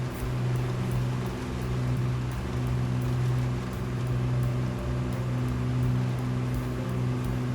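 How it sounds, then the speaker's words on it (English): Steady rain falls in the video game Project Zomboid during a slow night drive home, a dense continuous hiss over a low vehicle hum, even and unbroken throughout. "with the rain coming down, we make the slow drive home"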